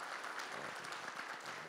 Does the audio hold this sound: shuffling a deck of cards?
no